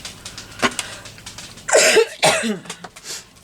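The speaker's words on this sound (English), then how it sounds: "Please excuse my coughing." Two harsh, close coughs in quick succession follow a small throat sound, loud and abrupt against near silence.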